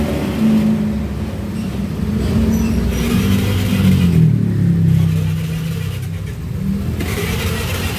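Honda Vario 125/150 scooter engine running after a restart, a close, steady mid-pitched hum with slight rises and dips in revs throughout.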